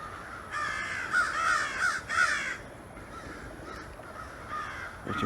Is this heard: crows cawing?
yes